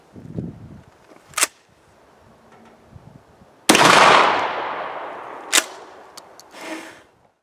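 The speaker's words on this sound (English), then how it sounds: "So what we're going to do is shoot an actual rock and see what happens there." Ceramic bullets fired at a rock outdoors: a few sharp cracks, then one loud blast with a long, fading ringing tail, followed by further sharp reports and snaps, no talking.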